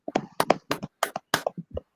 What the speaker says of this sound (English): Thank you very much for everyone clapping along to the NHS.